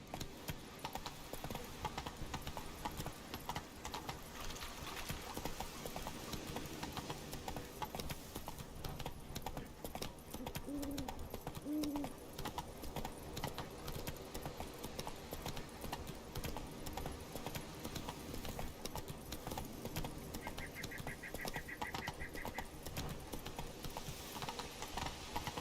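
Steady clip-clop of a horse's hooves from The Witcher 3 video game, a continuous rhythmic trotting layer under game ambience, with no talk over it.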